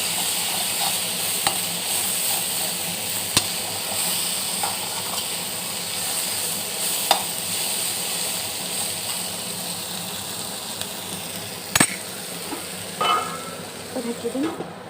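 Food frying in a pan and being stirred, a steady loud sizzle and hiss running throughout, with occasional sharp clicks and scrapes of the utensil against the pan, mostly toward the end.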